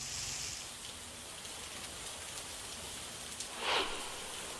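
Heavy rain falls steadily in Washi taluka, Dharashiv, a dense, even hiss of downpour with no pauses and a brief louder splash near the end.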